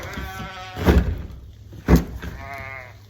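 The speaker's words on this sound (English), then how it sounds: "So we're gonna go check the sheep." Sheep bleat twice nearby, wavering calls separated by a pause, with a few soft thumps and rustles around them.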